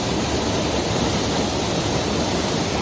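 Lake District waterfall, a steady broadband rush of falling water heard close, loud and unbroken with no voices.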